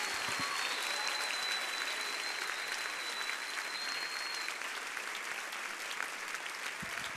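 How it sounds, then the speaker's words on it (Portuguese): A church congregation applauds during an evening service, a dense, even wash of clapping that holds steady throughout with a faint tone running under it. "Vamos aplaudir bem forte, gente, vamos."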